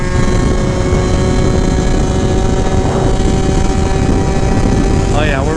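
A modified Yamaha JOG 3KJ scooter engine screams at high revs under acceleration, loud, close and continuous with heavy wind buffeting, holding near its top end with a brief rising whine at the end.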